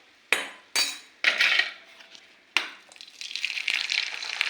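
Papads frying in hot oil over a low flame, with several sharp metallic clinks of a utensil followed by bursts of crackling sizzle, the frying hiss swelling into a steady bubbling near the end.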